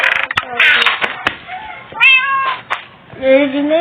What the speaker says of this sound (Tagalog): Yung pusa mo meow